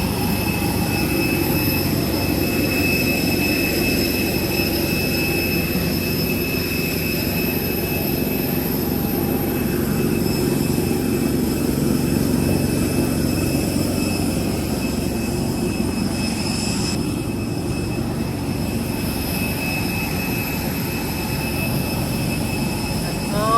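Steady loud jet engine roar from an airliner just after landing at Coimbatore airport, a continuous broadband rumble and hiss with high whining tones running throughout, with no speech.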